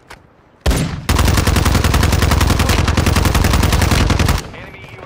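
Gunfire in the video game Call of Duty: Modern Warfare II: a single loud shot, then a long, rapid automatic burst of evenly spaced, very close shots lasting over three seconds before cutting off.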